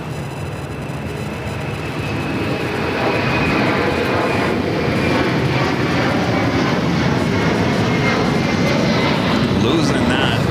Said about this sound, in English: this is a 767-300ER Latam Airlines heading to Lima, Peru